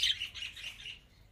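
Small birds give quick, bright chirps and tweets while pecking at boiled wheat, a short cluster of near calls that fades out after a second.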